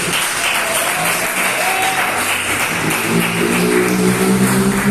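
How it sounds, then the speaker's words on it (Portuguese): A church congregation claps for Jesus during a Bible teaching service, the applause loud and continuous, with faint voices and a low sustained tone underneath. "Pode bater palmas para Jesus."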